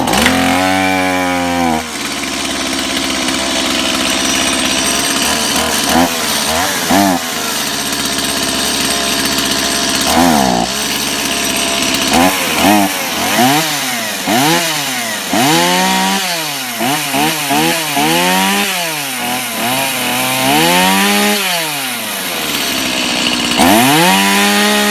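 Stihl MS 170 and MS 250 chainsaws start from cold on ordinary non-premium fuel, with choke on and chain brake set, then buzz and rev loudly close by in repeated rising and falling bursts with sharp throttle blips, and no talking over them.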